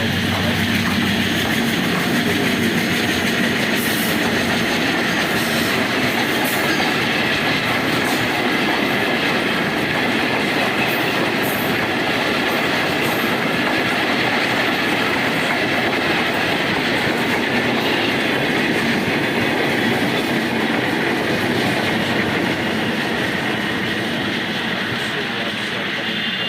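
The Salasar train rolls past Golokpur railway station, a loud, continuous rumble with rhythmic wheel clatter and faint squeals lasting the whole pass.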